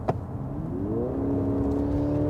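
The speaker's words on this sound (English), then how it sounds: "Put the car into sport mode." A 2024 Mercedes-Benz GLC SUV in sport mode carrying a roof load accelerates from a brief thump into a rising engine drone, the tone climbing smoothly and holding steady as it pulls, heard from inside the cabin.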